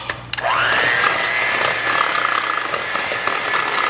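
An electric mixer spins up sharply and settles into a steady, close whir, rising slightly in pitch as it beats cookie dough with egg and vanilla for cowboy cookies. No one speaks.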